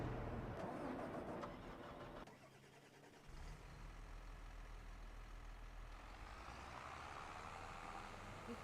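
A tractor engine runs in a farming video game during harvest, a continuous mid-pitched motor drone that dips briefly near the start and then settles into a steady, even hum with no speech.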